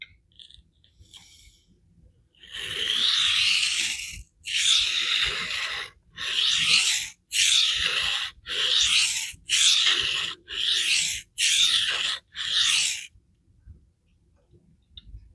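A Spyderco knife blade of S30V steel is drawn across a vitrified diamond sharpening stone in about eight rhythmic, evenly spaced gritty strokes, each a close, rasping scrape separated by short pauses.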